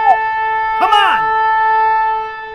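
A siren sound effect resembling a tornado warning plays as steady, loud sustained tones throughout, with a brief sweeping vocal-like sound crossing over it early on before the tones fade toward the end.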